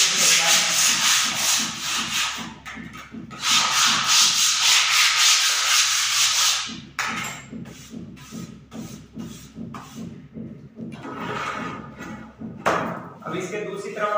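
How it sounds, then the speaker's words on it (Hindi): Sandpaper rubs back and forth across a board being prepared for laminate sheet, a loud rhythmic scraping in long bursts with pauses, close by, with someone talking intermittently. "रेगमाल लगा लें"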